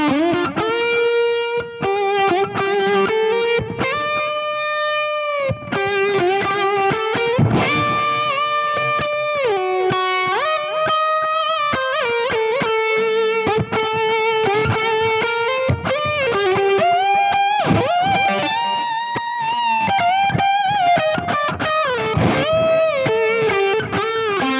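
Electric guitar played through a Mesa Boogie Stiletto amp on its clean channel with a tube driver pedal, a continuous run of mildly overdriven melodic notes and bends, loud and up front with no voices.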